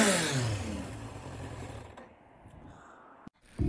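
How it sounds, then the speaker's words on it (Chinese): A quiet Kawasaki motorcycle engine whooshes as the throttle opens, a smooth rising swell that fades and drops away, ending with a brief mechanical click and a short burst of noise. "在你给油的时候你可以很明显的听到它的咻咻的加油声"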